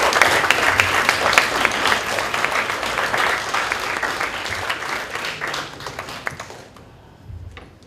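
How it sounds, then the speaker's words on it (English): An audience at a medical education event on sleep and meditation applauds for the physiology department, dense loud clapping sustained for several seconds before thinning and fading to a few scattered claps. "let's give the entire Department of Physiology a very big round of applause"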